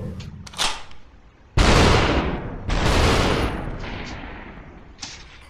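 Gunshots in SuperHot VR, two loud booming blasts with long rumbling tails, preceded and followed by a few fainter sharp shots nearby.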